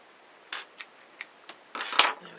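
Scissors trimming a yarn tail on a knitted chicken made on a circular knitting machine, with four light, separate snips followed by a longer, louder cut, all close by.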